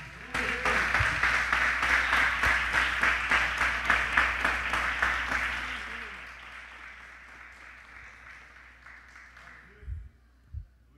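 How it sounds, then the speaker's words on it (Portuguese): A church congregation applauds together, a dense wash of clapping that holds steady for several seconds before thinning and fading out, leaving near silence with a couple of low thumps at the end. "Aplauda ao Senhor Jesus."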